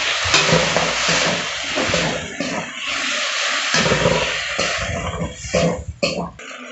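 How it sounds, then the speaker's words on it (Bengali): A wet spice paste of ground cumin, coriander, chili and turmeric fries loudly in a pan, a continuous sizzle broken by the scrape and knock of stirring, heard up close with no talk. "এবার আমি গোলা পেস্টটা দিয়ে দিচ্ছি, এতে জিরে গুঁড়ো, ধনে গুঁড়ো, লঙ্কা গুঁড়ো, হলুদ গুঁড়ো আছে, আমি এটা দিয়ে দিচ্ছি।"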